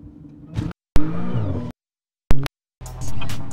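An Audi accelerating hard and spinning all four wheels on a rough road, with short bursts of loud engine roar and tire noise broken by gaps of silence.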